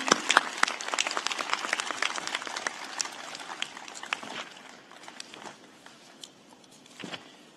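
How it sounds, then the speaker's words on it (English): Scattered applause from a modest crowd, brisk at first then thinning out into a few remaining claps. "let's give her a round of applause"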